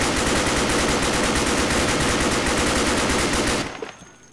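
Rapid, sustained automatic gunfire from a big gun in the video game Insurgency, a loud continuous roar of shots lasting several seconds before cutting off abruptly into near silence.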